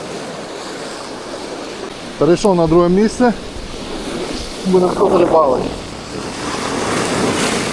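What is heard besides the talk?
ocean waves splashing over anglers on a boat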